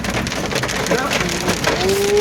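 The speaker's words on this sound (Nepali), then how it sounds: "ओ डेन्जर यार पानी पनि कत्रो पऱ्यो ल असिना हेर" Heavy rain and hail in Nepal roar steadily, a dense wash of drops pounding hard surfaces with clattering hail mixed in, loud and close throughout.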